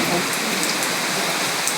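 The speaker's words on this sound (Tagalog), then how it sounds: "Grabe ang ulan." Heavy southwest monsoon rain pours down in a loud, continuous hiss, drumming steadily on surfaces nearby without pause.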